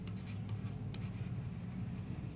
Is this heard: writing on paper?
yes